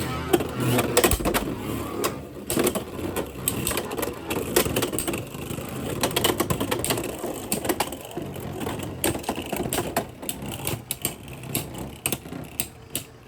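Beyblade X tops, Heaven's Ring against Drawn Strike, spin and clash inside a plastic stadium, giving a dense run of rapid rattling clicks and knocks that carry steadily for several seconds.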